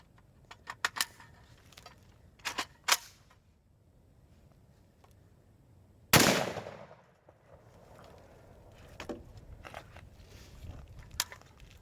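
A single sharp shot from an Inter Ordnance AK-47 rifle, fitted with its buffer, rings out loud and close at mid-clip and decays briefly, preceded and followed by light metallic clicks and rattles of handling.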